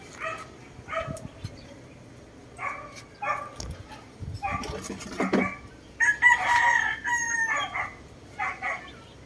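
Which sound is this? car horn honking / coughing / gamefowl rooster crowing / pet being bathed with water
gamefowl rooster crowing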